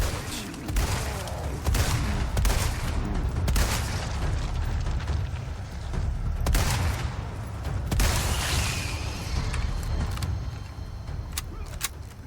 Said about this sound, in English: You shoot a guy half a dozen times in the upper torso, and he just keeps coming